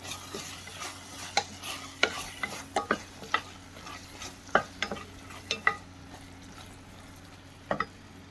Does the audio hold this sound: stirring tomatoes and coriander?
yes